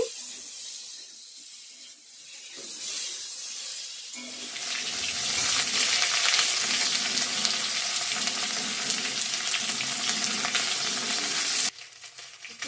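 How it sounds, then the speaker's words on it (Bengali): Bitter gourd frying in a pan starts as a soft, quiet hiss, then swells into a loud, bright, continuous sizzle for several seconds before cutting off abruptly near the end. No one speaks. "করলা ভাজাটা এখন করছি"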